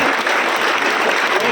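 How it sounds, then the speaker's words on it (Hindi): Sustained, loud applause from an auditorium audience at a political commemoration event in New Delhi, welcoming freedom fighters; dense, steady clapping throughout with no pauses. "जोरदार तालियों से सभी स्वतंत्रता सेनानियों का आप स्वागत करें।"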